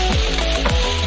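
Onions sautéing with garlic in a pan for gisadong ampalaya with pork, a steady loud sizzle with a few scraping stirs, no talk.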